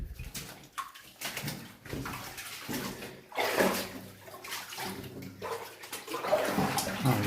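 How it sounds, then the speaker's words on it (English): Water flowing and splashing through an old mine adit in the woods, an irregular close gurgling with sloshing surges, fairly quiet and with no talk. "Oh, there's a little bit of water to go through."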